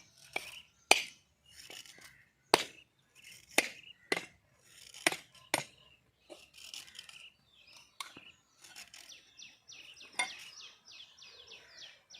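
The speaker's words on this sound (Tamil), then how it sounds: "வாங்க, தேங்காய் துருவி எடுத்துக்கலாம். பாருங்கள், இதுலேயே சுரண்டிக்கலாம்." Coconut being scraped on a grater in a home kitchen: short raspy scraping strokes and sharp clicks come in irregular bursts with quiet pauses between them, soft and close, with a faint chirping near the end.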